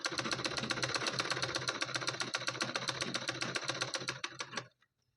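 A sewing machine stitches a fall onto a saree in a steady, rapid run of needle clatter, close and continuous for about four and a half seconds before stopping.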